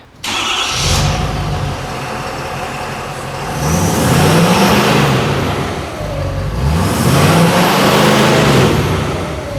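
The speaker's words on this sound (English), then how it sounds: "give you a little sound of what this exhaust is going to sound like" A 2019 Ford Super Duty pickup with an LMX4 aftermarket exhaust starts with a loud crank, then settles to a deep idle. Two strong revs swell and fall back, heard close and loud without talk.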